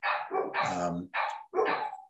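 Several dogs bark close to the microphone in a burst of loud, overlapping barks, five or so in quick succession over about two seconds, with no talking.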